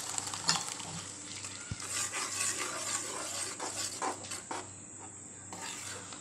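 Cooked, mashed moong dal is stirred into an onion and tomato masala in a kadai, giving a soft continuous sizzle with occasional scraping and a single clink, close and fairly quiet.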